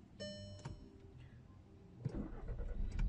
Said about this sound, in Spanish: encendió el vehículo sin ningún problema